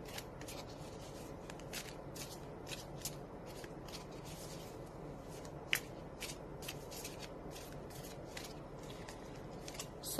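A deck of tarot cards is shuffled over and over in a quiet room, giving a steady, soft riffling patter with one sharper snap partway through.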